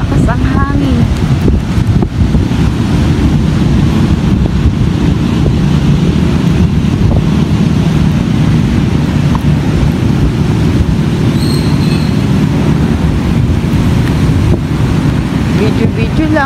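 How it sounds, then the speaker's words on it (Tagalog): Very strong wind buffets the microphone outdoors, a loud, steady roaring rumble that never lets up. "Sobrang malakas ang hangin."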